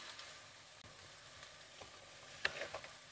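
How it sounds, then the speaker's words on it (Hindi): Mixed vegetables for a pulao fry with salt in a pan, giving a steady soft sizzle throughout, with a brief clink of a utensil stirring near the end. "सब्जी को 2-3 मिनट फ्राई करूंगी इसी तरह।"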